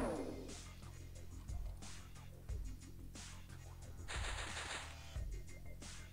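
Reaction-shot gunfire in the X-Com Files video game: several rapid bursts of automatic fire and sharp shots in quick succession, fairly quiet overall, with no talking over it.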